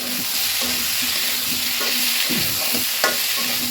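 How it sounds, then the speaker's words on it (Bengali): Ginger spice paste, cooked without onion, sautéing in a pan for a rohu fish and potato curry: a steady close sizzle with repeated soft scraping strokes of the spoon and one brighter clink near the end. "মশলাটা খুব ভালোভাবে কষিয়ে নেব"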